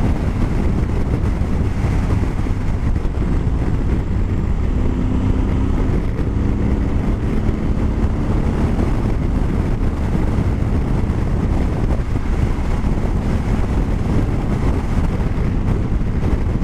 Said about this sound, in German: Oh, der Wind dabei ist auch nicht gerade schön.